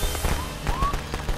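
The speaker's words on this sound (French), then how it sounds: "J'ai mis des pétards, moi, sur la bannière là." Firecrackers set on a banner pop in the Friday the 13th video game, a quick scatter of sharp cracks spread over a second and a half with a faint whistle among them.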